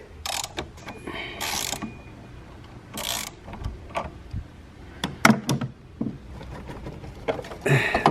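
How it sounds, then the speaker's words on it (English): A 10mm socket wrench ratchets on the negative battery terminal of a 2016 Honda Accord, with bursts of close clicking separated by pauses, clanks and handling noises. "You have your 10mm with your wrench socket and disconnect"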